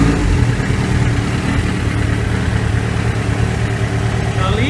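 A Suzuki GSX750F motorcycle engine idles steadily after carburetor synchronization done with hoses, a close, even, continuous low rumble that stays smooth throughout with no voices over it.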